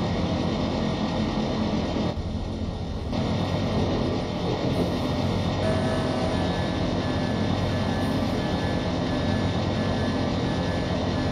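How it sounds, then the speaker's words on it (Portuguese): A heavy freight train climbs a grade in the Open Rails simulator on the Ferrovia do Aço line, giving a loud, continuous, dense rumble of engine and rolling stock that holds steady throughout, with no talk. "Trem pesado. Aqui passa devagarzinho quando a gente parte do P18."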